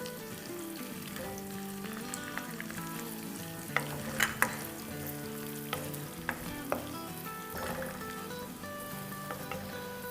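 Oil sizzles and crackles steadily, with occasional sharper pops and spatters as slit green chilies and julienned ginger fry in a pan.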